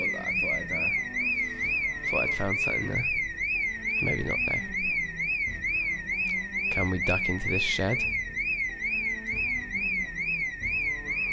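A car alarm wails in the game Project Zomboid, a steady warbling siren repeating rapidly and continuously throughout while someone talks over it.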